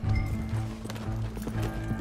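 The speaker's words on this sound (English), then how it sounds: "Oh my god, a horse is running away there." A galloping horse in Red Dead Redemption 2 runs off, its hooves clip-clopping in a steady rhythm over a low, continuous game soundscape, moderately loud and close.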